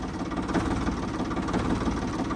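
A Ford 3600 tractor engine runs at a steady idle nearby, a continuous low rumbling drone with an even throb and no voices.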